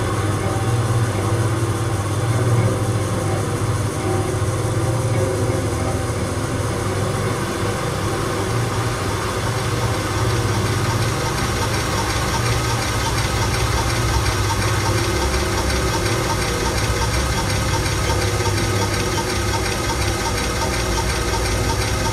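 A vaporetto boat engine idles on the Bega river near a bridge. It gives off a steady, loud mechanical drone with a low rumble and a faint knocking rhythm, running unchanged with no talk.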